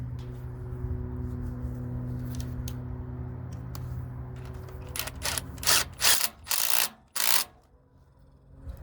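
A hand ratchet clicks while snugging bolts on the PTO seal housing of a Case 311B tractor, first a steady low hum, then several short loud bursts of ratcheting close by.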